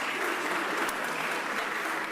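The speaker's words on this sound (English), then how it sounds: "Give Dr. Wallington, the School District of Philadelphia, a huge, huge, huge round of applause." Steady audience applause at a mayoral press conference about SEPTA cuts, honoring the School District of Philadelphia superintendent; dense, even clapping fills the short stretch without a break.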